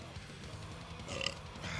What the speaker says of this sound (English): Little burp for you.